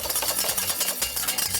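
A whisk or spoon stirs béarnaise sauce in a bowl or pan, making fast, rhythmic scraping strokes that are loud and close, with no talking over them.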